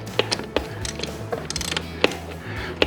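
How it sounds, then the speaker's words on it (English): 17mm spanners work on the lowering linkages of a Suzuki motorcycle, giving sharp irregular metallic clicks and ratcheting taps, close and fairly quiet, with no talk. "Again with the 17mm spanners."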